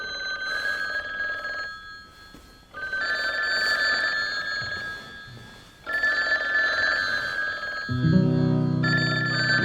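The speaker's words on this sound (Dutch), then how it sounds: "En niet veel later rinkelden in de polders de telefoons." Old telephone bells ringing in farmhouses on the polders during a North Sea storm, with several loud, sustained rings separated by short pauses and a low rumble at the end.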